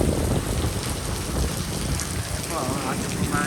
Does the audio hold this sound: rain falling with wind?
yes